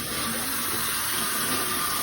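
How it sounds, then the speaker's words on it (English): Tap water runs steadily into a sink to wet a washcloth, a continuous broadband hiss with no pauses and no talking. "and I'm gonna wet my washcloth."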